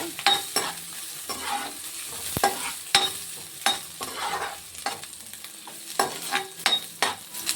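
Chopped onions and curry leaves fry in a pan for carrot rice, with a soft continuous sizzle broken by repeated spatula scrapes and taps as they are stirred, close and moderately loud.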